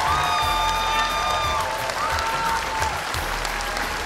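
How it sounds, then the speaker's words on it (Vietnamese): Full audience applause for the contestants at a Vietnamese women's beauty pageant, sustained clapping with some crowd noise and whistle-like tones over it. "Một tràng vỗ tay cho tất cả các cô"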